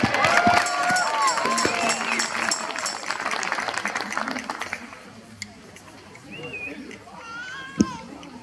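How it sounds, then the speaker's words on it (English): Crowd applause and cheering at an outdoor Christmas carols event on a lawn, loud at first with children's voices mixed in, then fading to scattered claps and chatter. "Big round of applause."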